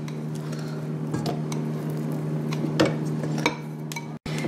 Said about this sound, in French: Et je continue de mélanger environ 5 à 10 minutes